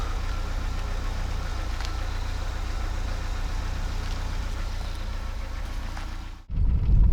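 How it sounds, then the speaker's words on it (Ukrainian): Opel Astra F Caravan exhaust at idle, a steady close low rumble that cuts abruptly near the end into a louder, boomier burst as if the mic moved right to the tailpipe. "вихлоп. Послухаємо."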